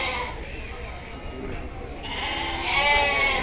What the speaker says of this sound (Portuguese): Bode aqui à vontade, viu?